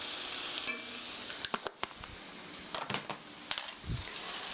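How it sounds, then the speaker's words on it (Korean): Onions and sugar sizzling in a frying pan for mapo tofu rice bowls, stirred with repeated close clicks and scrapes of a utensil over a steady soft hiss, without any talk. "고루 살살 섞어서 설탕이 스며들게 해주시고요"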